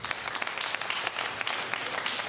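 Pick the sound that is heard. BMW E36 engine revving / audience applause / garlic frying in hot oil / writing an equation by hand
audience applause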